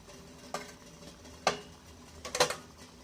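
Idiyappam goes into a hot idli steamer pot with three separate metallic clinks and scrapes, the last a quick double clatter, close up and fairly quiet.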